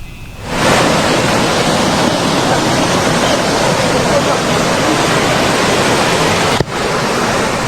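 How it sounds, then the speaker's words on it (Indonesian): Swift, flooding river current after a bridge collapse, roaring as a dense, constant wash of loud rushing water that carries on without a break through the whole stretch. "Warga bergotong royong menarik mobil di tengah derasnya arus sungai."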